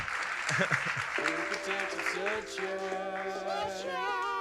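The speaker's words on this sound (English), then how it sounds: "Give him a round of applause." Audience applause at a 2007 ecology-themed webcast event, a broad steady wash of clapping mixed with cheering voices and a tonal music-like background starting partway through, fairly loud and continuous.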